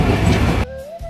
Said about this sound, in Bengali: বাধেরহাট স্টেশনে পৌঁছানোর পর ট্রেনটি ধীরে ধীরে থামলো